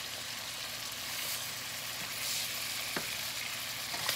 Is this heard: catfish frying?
yes